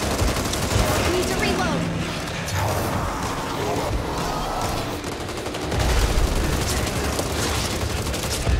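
Dense, sustained gunfire from Back 4 Blood gameplay, rapid shots and fusillade noise running loud and continuous throughout, with voices faintly mixed in under the shooting.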